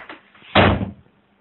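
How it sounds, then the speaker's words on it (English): A door swings shut with a single solid thud, preceded by faint soft handling noise and followed by a quick fade to quiet. "the sound made by closing a door"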